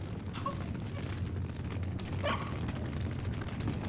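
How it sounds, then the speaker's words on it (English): A dog whines faintly inside a smoke-filled house during a fire, a few short high whimpers heard over a steady low roar of background noise. "we could hear a dog whining"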